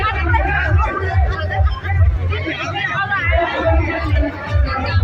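Dense crowd at the Kirtipur fair, a steady loud hubbub of many overlapping voices and chatter close around, continuous throughout.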